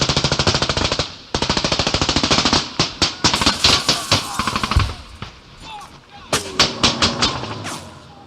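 Rapid bursts of machine-gun fire from a sound effect played at a convention, loud, with a short pause before the repeated volleys and scattered single shots.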